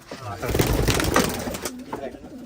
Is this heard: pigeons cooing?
yes